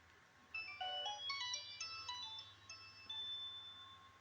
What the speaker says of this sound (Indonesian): Oke, coba kita bunyikan dulu ringtone-nya.